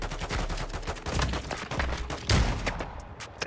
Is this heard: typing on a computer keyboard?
no